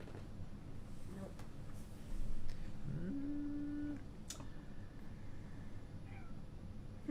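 A cat meows in a single drawn-out call, with more creeping cats nearby in a podcast setting, heard over a steady background hum and low room noise.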